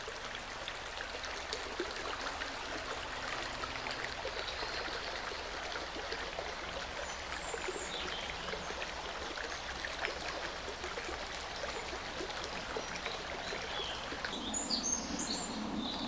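A woodland brook near an old railway viaduct flows steadily, a constant broadband wash of running water with faint birdsong drifting in the background throughout.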